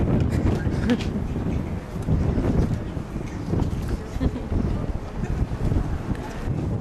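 Outdoor wind buffets the microphone during a torch lighting in Prince Albert, a loud, continuous low rumble with gusty swells throughout.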